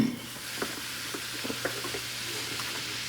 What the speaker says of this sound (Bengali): আমার মেয়ের লুচি ভাজা হচ্ছে